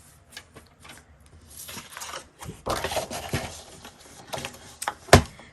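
Tim Holtz patterned paper being trimmed to size, with scattered clicks and shuffling followed by a brief rasping slide of a cutter blade and a sharp snap near the end, close and fairly quiet.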